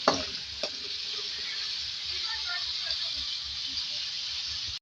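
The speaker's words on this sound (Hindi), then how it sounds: "देखिए, इसको पहले फ्राई करेंगे और इसको फिर निकालेंगे।" Kaleji (goat liver) pieces frying in hot oil give a steady, loud bright sizzle throughout, with a couple of sharp stirring clatters near the start and occasional bubbling pops.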